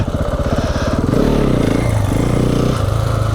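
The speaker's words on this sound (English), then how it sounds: "It's going to be tricky to wheelie this bike" A KTM 690 Enduro single-cylinder motorcycle thumps at low revs, then is revved up for a wheelie attempt, its loud, close engine note rising and dipping over a few seconds.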